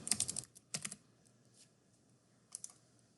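A layer name is typed on a computer keyboard in Photoshop: a quick cluster of close keystrokes, a pause, a short second burst, then a few faint taps near the end.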